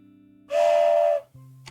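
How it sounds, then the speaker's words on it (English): A whistle is blown once in a single steady, loud blast lasting under a second, followed by a faint short chirp, over a quiet background hum. "let me blow the whistle for you"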